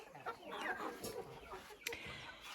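Chickens cluck softly in a steady murmur of short, overlapping calls, fairly close, with no talking.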